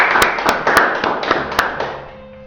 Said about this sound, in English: a round of applause to that.